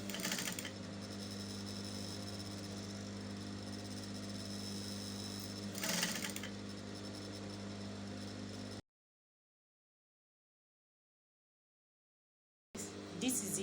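Sewing machine stitching pleats around the facing of a flared Ankara shift dress, a steady continuous motor hum running for several seconds with a brief bump, then cutting to silence before resuming.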